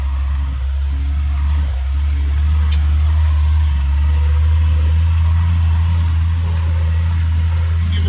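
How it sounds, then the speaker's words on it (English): A Jeep CJ-7 engine idling roughly, a steady, loud, close low rumble that runs unbroken throughout with no talking. "You should hear the motor for a little bit."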